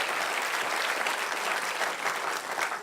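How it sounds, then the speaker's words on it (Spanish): Church congregation applauds during a pastor's sermon, a thick, continuous wash of clapping from many hands filling the room, loud and steady for its whole length with no voices over it. "Dele un aplauso a la palabra"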